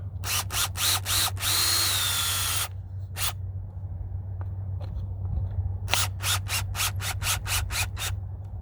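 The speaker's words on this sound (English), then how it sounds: "I put a screw in, and I'll tighten that down" A cordless power drill drives a screw into a wire fence tensioner outdoors, giving a few quick trigger bursts, then one longer run, then a string of short pulses over a steady low hum.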